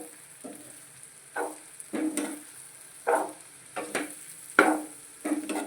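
Bread upma is stirred in a pan with a utensil, making soft sizzles and scraping strokes that come in uneven bursts over a faint steady background hiss.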